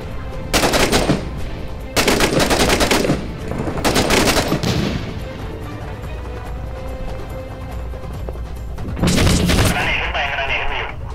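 Bursts of rapid automatic gunfire in a Middle East military shooter game, loud and close, coming in several separate volleys with gaps between them.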